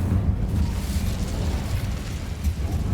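An Incendio fire spell cast in Hogwarts Legacy produces a loud, continuous roaring whoosh of flame, a dense rumbling blast that holds steady for about three seconds.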